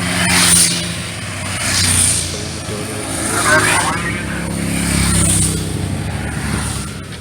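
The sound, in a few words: first rally car climbing the mountain pass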